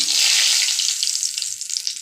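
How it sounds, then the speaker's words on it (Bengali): A spice paste dropped into hot oil sets off a loud, steady hissing sizzle up close that slowly softens as the frying settles, with no talking. "এবার তেলেতে দেব আমি যে মশলা পেস্টটা করে রেখেছি"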